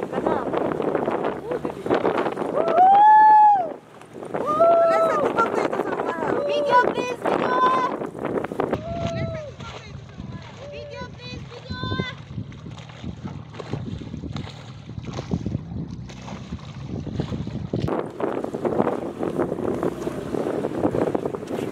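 Speed boat ride on water at Geljang Resort in Churachandpur: a constant engine drone with wind buffeting and splashing water runs throughout, with people shouting and talking over it.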